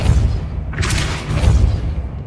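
A Depulso force spell cast in Hogwarts Legacy on PS5, a booming magical blast with a rushing whoosh that swells midway through a continuous low rumble of game sound.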